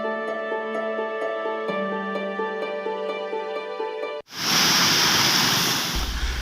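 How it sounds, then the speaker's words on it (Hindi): Water falling from a height like a waterfall: a sudden loud, steady broadband rush of crashing water that starts abruptly after a passage of sustained musical tones and continues close and full. "ऊंचाई से गिरता हुआ ये पानी किसी झरने से कम नहीं लग रहा"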